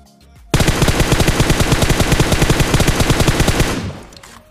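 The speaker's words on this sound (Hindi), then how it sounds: "सामने से गन फायरिंग की आवाज़ सुनाई दे रही थी" A loud, sustained burst of rapid automatic gunfire from the mobile battle royale game PUBG Mobile, evenly spaced shots hammering for about three seconds before the sound cuts off and trails away.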